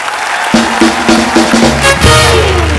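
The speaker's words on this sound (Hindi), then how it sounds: "जोरदार तालियां हो जाए एक बार।" Studio audience at a comedy talk show breaks into applause, a dense sustained clatter of many hands with music playing underneath and rising accents as the clapping continues.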